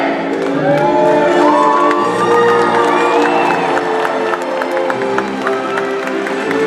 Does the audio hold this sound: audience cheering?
yes